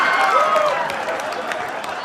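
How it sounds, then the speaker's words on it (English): A studio audience at a comedy talk show claps in a brief, dense burst that fades out, with a voice over the start. "I can't believe you clapped about that"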